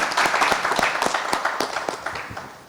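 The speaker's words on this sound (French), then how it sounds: "Applaudissez pour elle." Audience applause at a 50th anniversary celebration for the Salongo group, a short burst of scattered hand claps that fades over a few seconds.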